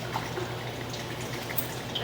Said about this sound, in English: So I'm going to turn the water off